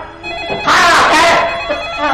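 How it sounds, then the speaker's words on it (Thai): A telephone rings loudly indoors in a Thai drama, a bright, rapid bell trill lasting over a second and standing out from the other sound. "คุณผู้ชายคะโทรศัพท์ค่ะ"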